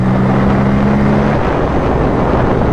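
A Bajaj Pulsar N160 motorcycle revs loud and close, its steady engine drone shifting pitch partway through as it accelerates through the gears, with no talking.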